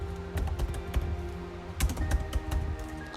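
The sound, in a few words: typing list disk command on computer keyboard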